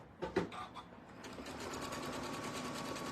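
A 9450 sewing machine with an HP foot starts with a few quick clicks, then runs into a steady, even whir of stitching, close and quiet.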